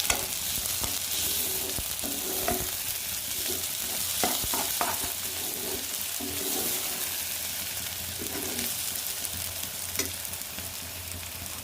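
Curry leaves stirred into oil with ginger garlic paste in a pan for egg masala make a continuous close sizzle, broken by repeated scraping stirs and small taps of the spoon.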